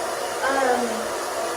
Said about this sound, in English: I've had people ask me if a blow dryer really matters.